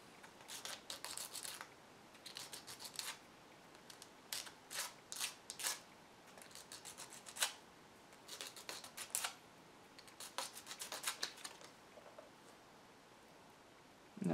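Sandpaper is rubbed by hand against a small 3D-printed ring part, giving short bursts of quick, dry scraping strokes in uneven groups separated by pauses, close and fairly quiet.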